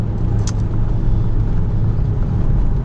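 Engine of a 1996 BMW 323 held at half throttle, a steady loud low rumble with a rising drone and no pauses, heard close and alone.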